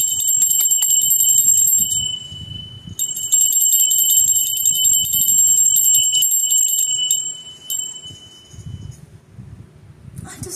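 A small hand bell, a favourite dug up by Bella, rings with a bright sustained metallic tone in two long strokes that fade out, with low rustling and handling noise beneath and no talk.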